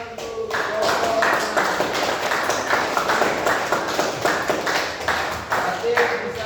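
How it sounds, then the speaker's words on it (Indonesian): Students in a classroom applauding a presenting group, with a steady, dense patter of many hands clapping at close range, continuing throughout with faint voices mixed in. "Tepuk tangan untuk kelompok"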